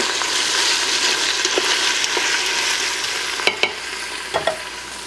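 Onions sauté in an Instant Pot, a loud steady frying hiss close by, with a few sharp spoon scrapes and clicks near the end as they are stirred.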